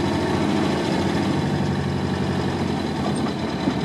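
A 1963 Volvo PV 544 four-cylinder engine, a barn-found car, runs steadily at close range, a continuous low rumble with no talk over it.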